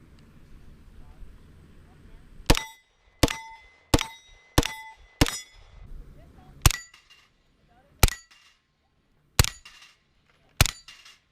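Suppressed firearm shots fired in a side-by-side comparison, including a homemade suppressor and an M3 Grease Gun: about ten sharp cracks, the first five in a quick regular series and the rest spaced farther apart, some with ringing tails.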